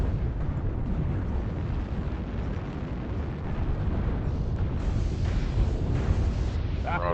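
Artillery strike in the MechWarrior Online video game: a dense, continuous roar of overlapping explosions and rumbling booms fills the whole stretch, loud and sustained, with a brief voice near the end.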